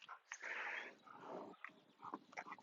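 A dog whines and yelps eagerly during heelwork training, a run of high, wavering whimpers and short squeals rising and falling for a few seconds, fairly close and alone.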